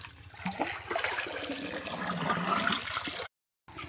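Water gushes from a village tubewell driven by a Peter engine, a steady loud rushing splash with engine thrum beneath, cut briefly by a gap of silence near the end.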